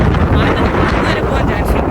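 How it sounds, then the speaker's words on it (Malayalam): Strong wind buffeting the microphone on a misty mountain top, a loud continuous low rumble with gusty surges, with a voice faintly underneath. "നല്ല കാറ്റുണ്ട്"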